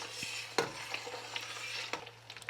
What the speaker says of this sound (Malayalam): എണ്ണ ചെറുതായിട്ട് തിളച്ച് വരാൻ തുടങ്ങിയിട്ടുണ്ട്.